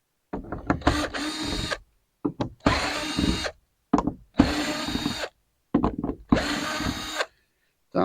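A power drill backs screws out of a truck topper shell being shortened, whirring loudly in about six separate bursts of a second or so, with short pauses between them.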